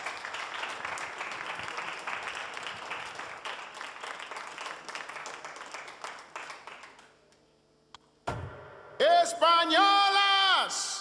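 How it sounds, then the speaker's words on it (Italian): A stage audience applauding performers at a televised casting event, steady dense clapping for several seconds that fades out, followed by a burst of music. "accogliamo con un grande applauso Valentino e Laura"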